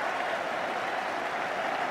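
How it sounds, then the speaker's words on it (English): A rugby crowd at the final whistle of the 1983 England versus New Zealand test match roars and applauds in a dense, continuous wash of cheering, loud and sustained with no pauses. "The crowd erupt in sheer joy."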